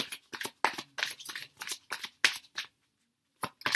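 Oracle cards being shuffled and drawn by hand, a run of crisp papery riffles and flicks in short bursts with brief pauses, close and fairly quiet, no voices.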